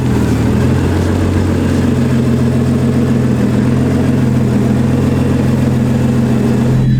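Supercharged Audi S4 engine running steadily just after startup, a loud continuous low idle hum with a faint rise in revs, close by and with no talk over it.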